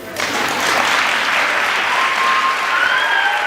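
Applause from the audience after a keynote at a Year 13 graduation ceremony in Nairobi, dense sustained clapping that starts suddenly and holds strong, with faint voices underneath.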